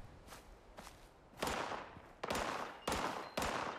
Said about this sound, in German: Da ballert's doch rum.